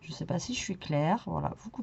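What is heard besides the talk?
None of the usual background noises is heard.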